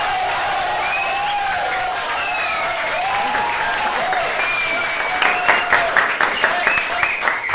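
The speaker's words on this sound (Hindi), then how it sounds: "ताली बजाओ यार, इतना अच्छा आंसर दिया यार" Classroom students clapping, with a crowd of young voices chattering and calling out over sustained applause that grows into distinct rhythmic claps near the end.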